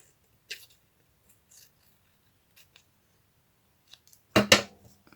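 Paper being cut for a Christmas card craft, a few faint isolated snips early on and then two louder, close scissor cuts near the end, otherwise quiet.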